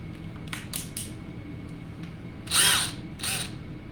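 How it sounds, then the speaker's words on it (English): A power drill with a 9mm bit bores into a ski for a binding mount: several short whirring bursts, then a louder, longer grinding run and one more burst, all close and with no talk. "when you're drilling at the skis, you always want to use a crisscrossing pattern"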